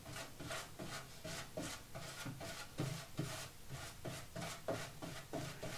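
A brush spreads Mod Podge in steady, repeated soft rubbing strokes, a quiet close-up scrape with an even rhythm and no talking.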